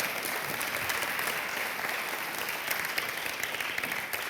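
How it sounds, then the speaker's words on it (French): An audience at the launch ceremony for a national mentoring month claps continuously, a dense, even wash of applause from a sizable crowd in a hall, with no voices over it. "vous pouvez applaudir très fort"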